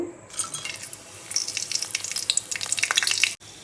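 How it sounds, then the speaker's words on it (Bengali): Bay leaf, cardamom, cinnamon and cloves are dropped into hot oil and fry with a close, lively crackling sizzle that builds after a quiet start and cuts off abruptly near the end; no one speaks. "তেলটা গরম হয়ে এসেছে আমি মশলাগুলো এখানে রয়েছে তেজপাতা এলাচি দারচিনি লবঙ্গ এগুলো আমি সব কিছু দিয়ে দিব"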